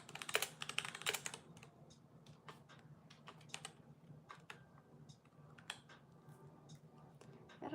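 A computer keyboard being typed on, with faint, close key clicks coming in irregular bursts, denser at the start and sparser afterward, with no voices over them.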